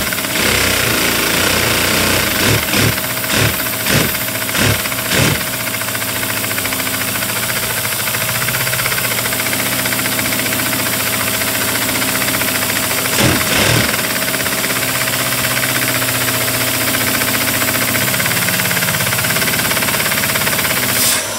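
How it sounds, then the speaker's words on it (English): A small LEGO pneumatic vacuum engine, a VR2 design, runs steadily at high rpm with a rapid mechanical knocking rhythm, loud and close, with a few sharper clattering bursts early on and midway. "I really don't like the sound of this engine"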